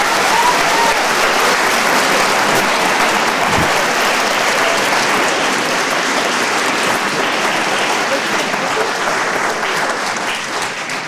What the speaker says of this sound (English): I don't usually allow applaud in my